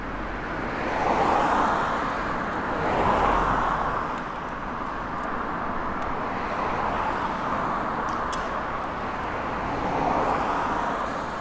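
Steady road traffic on a city street in Nagoya, Japan, with cars rushing past in a continuous broadband wash that swells several times as vehicles pass, heard from a bicycle with some wind, no talking.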